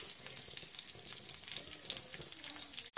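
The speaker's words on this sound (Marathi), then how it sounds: "त्यात 1 कांदा आणि 1 टोमॅटो आणि 2 हिरव्या मिरच्या बारीक चिरून त्याही तेलात परतून घ्यायचं आहे" Chopped onion, tomato and green chillies sauté in hot oil over browned cumin and mustard seeds, giving a soft, steady sizzle with faint stirring clinks and no voices.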